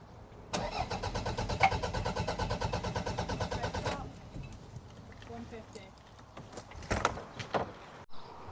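A Toyota MR2 engine cranks rhythmically for about three and a half seconds during a compression test without catching, followed by clicks, clunks and brief voices nearby.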